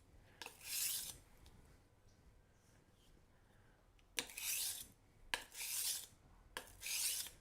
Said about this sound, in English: you just need to be a little bit patient sharpening your knives.